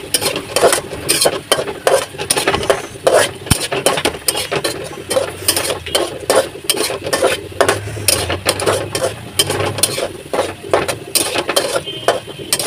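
A spoon stirs spiced food in a cooking pan, giving repeated scraping clatters against the metal over a steady oily sizzle, loud and close, with no voices.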